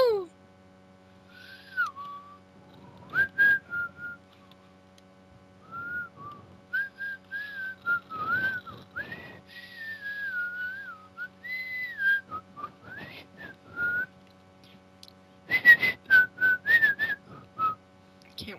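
A person whistles a wandering tune, alone and fairly close, with rising and falling phrases broken by short gaps and breathy puffs, ending in a rapid burst of quick notes.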